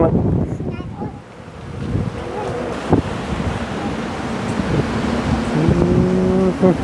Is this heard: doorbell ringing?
no